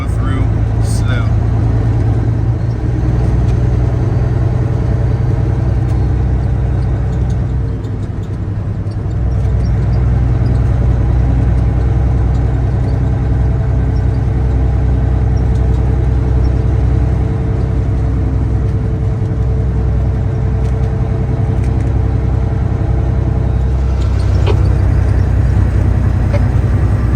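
A truck drives slowly along a narrow, winding, snow-covered road, its steady engine drone loud and close throughout with a brief dip partway and a shift near the end.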